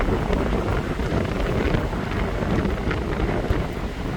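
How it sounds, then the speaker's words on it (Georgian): Gusty wind rushes across an outdoor football training pitch during an FC Faskunji session, a steady, loud roar buffeting the microphone with no voices. "აქ ქარი ჩაერთო"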